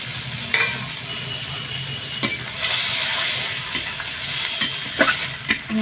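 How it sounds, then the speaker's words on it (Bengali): Spice paste of onion, garlic and ginger paste frying with tomato in a pan, a constant soft sizzle with scraping stirs and occasional clinks of a utensil, close and moderate in level. "মশলাটাকে একটুখানি কষিয়ে নেব।"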